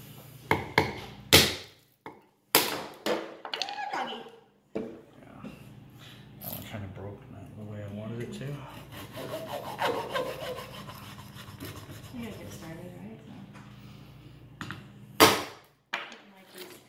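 Sharp, knocking chops and scraping strokes of a knife struck with a hammer cut through clear ice in bursts, with people talking in between.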